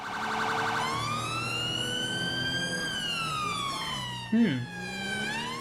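A police car siren in the video game GTA V wails loudly and continuously, sweeping slowly up and down in pitch with a brief yelp burst partway through, filling the whole clip without any talk.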